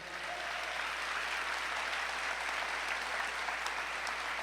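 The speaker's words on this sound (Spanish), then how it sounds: "Denle un fuerte aplauso al Señor" A church congregation claps together in a steady, even stream of applause that holds at a moderate, slightly distant level throughout, with no speech over it.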